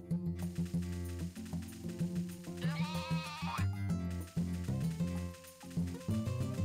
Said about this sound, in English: That goat sound is quite jarring.